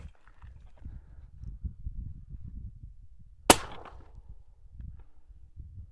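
A single suppressed-style shot from an 8.6 Blackout rifle firing a subsonic 300-grain boat-tail hollow-point round cracks sharply once mid-clip, standing out above a low rumbling background outdoors.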